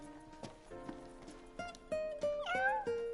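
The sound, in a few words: cat meowing in the video game Final Fantasy 15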